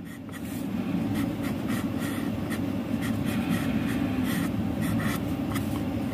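Pencil sketching eyes on paper, a steady close scratching with short repeated strokes over a constant low room hum, no talk.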